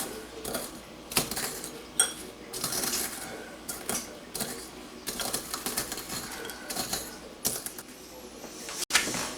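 Saltine-style crackers crushed into crumbs with a fork for a tuna casserole, giving irregular crisp crunches, scrapes and clinks of metal on a dish, close up and fairly quiet.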